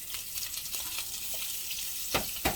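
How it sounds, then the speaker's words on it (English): Andouille sausage browning in a pot for gumbo, a soft, steady sizzle with light crackle and a couple of sharper pops near the end, quiet and alone without speech. "now what I'm going to put in here, turn this down, is my andouille sausage."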